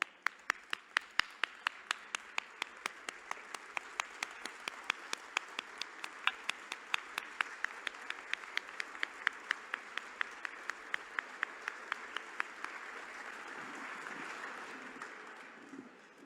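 Audience applause at a forum's opening remarks, sustained clapping with a few sharp, loud individual claps standing out in a steady rhythm over the wider wash of hands, continuing for over fifteen seconds.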